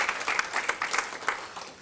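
Audience at a Lions Club of Hosur Everest installation ceremony gives a burst of applause, dense crowd clapping that fills the whole moment with steady, fairly close hand claps.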